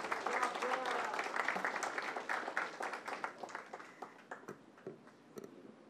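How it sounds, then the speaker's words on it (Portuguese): Audience applause for the panelists at a deep tech forum in São Paulo, a moderate round of clapping that thins into scattered claps, with voices murmuring underneath. "Uma salva de palmas."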